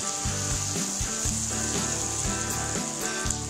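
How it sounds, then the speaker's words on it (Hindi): Mustard seeds and cumin roasting in hot oil, a continuous crackling sizzle under a steady, loud tonal background with a repeating melodic pattern. "थोड़ा ये भून जाए।"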